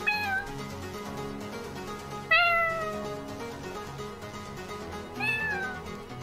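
A cat named as a household pet meows three times, clear, drawn-out calls spaced a few seconds apart, each rising then falling, heard close over a soft steady background.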